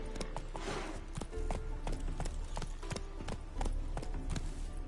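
Hoofbeats from Geralt's horse Roach in The Witcher 3 video game, a steady clip-clop rhythm of galloping hooves running through the whole stretch over a low game soundscape, fairly close and even in loudness.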